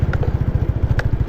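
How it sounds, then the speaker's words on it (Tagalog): A motorcycle on a street during a brake test, its engine giving a steady rapid low throb with a couple of brief clicks and clatters over it, close and fairly loud. "Testing ko dito sa street natin yung preno ng motor natin mga tol."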